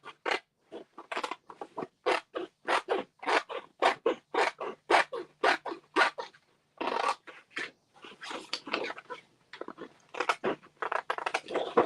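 Sharp scissor snips cutting patterned scrapbook paper for fussy cutting, a close, crisp run of rapid repeated cuts in steady rhythm, briefly pausing then continuing more densely, with no talking.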